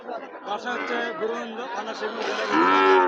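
Cattle at a farm in Bogura, Bangladesh, give low, drawn-out moos that swell louder near the end, mixed with people chattering close by throughout.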